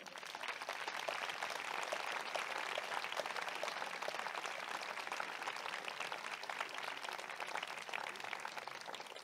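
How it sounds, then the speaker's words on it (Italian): Sustained, dense audience applause at an author talk in Monselice welcoming professor Umberto Galimberti, a constant even wash of many hands heard from a distance, fairly faint and unbroken. "il professor Galimberti, per il quale vi chiedo di fare un grandissimo applauso"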